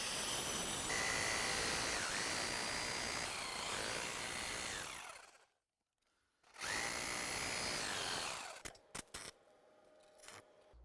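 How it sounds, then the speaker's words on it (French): Power tool cutting into a wooden gate post cap, two loud sustained bursts separated by a brief silence, ending with scattered knocks and clatter. "Ici, il faut découper légèrement dans le chapeau du poteau pour avancer."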